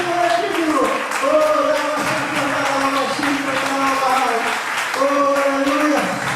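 Church congregation clapping during worship, loud sustained applause over music with tonal voices singing or calling out.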